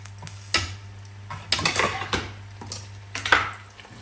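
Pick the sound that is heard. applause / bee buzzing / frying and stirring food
frying and stirring food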